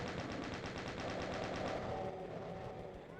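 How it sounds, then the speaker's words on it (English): Rapid automatic gunfire from a Doom II first-person shooter, sustained loud bursts in a steady rapid rhythm, fading slightly toward the end with no talking. "let's go back to shooting Nazis"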